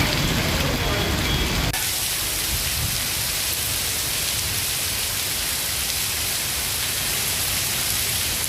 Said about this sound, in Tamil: ராணிப்பேட்டை மாவட்டத்தில் வாலாஜா, ஆற்காடு, ஷோலிங்கர், அரக்கோணம் உள்ளிட்ட பகுதிகளில் 1 மணி நேரத்திற்கு மேலாக பலத்த மழை பெய்தது